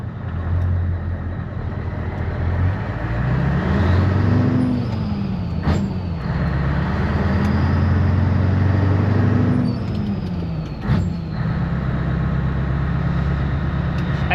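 A Scania 143 500 V8 truck drives along, its deep engine rumble and exhaust note rising and falling steadily as it works through the gears, close and loud throughout with a couple of brief sharp clicks.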